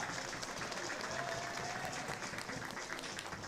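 Spectators applaud as the team captain receives the cup after a Polish Cup football match, steady clapping from a modest outdoor crowd at a moderate distance, with a faint whistle-like tone running through it.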